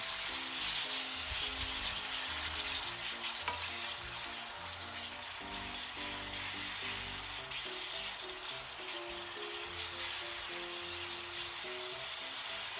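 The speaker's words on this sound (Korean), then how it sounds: "꽃소금 3분의 1큰술 후춧가루 약간, 레몬즙 1큰술, 골고루 볶아주세요." Squid stir-frying with salt, pepper and lemon juice in a pan, a steady bright sizzle running throughout with low clinks and stirring scrapes underneath, fairly close and without talk.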